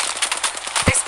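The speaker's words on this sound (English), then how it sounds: "They spotted me. I'm taking shots." Gunfire in the Apex Legends Mobile video game, heard as a rapid burst of closely spaced synthetic shots with a heavier blast near the end, loud and close.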